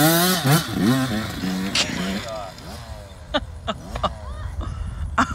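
A motocross motorcycle at a practice track revs under heavy throttle, the engine note rising and falling in sweeping bursts, with people talking over it and sharper mechanical pops later on.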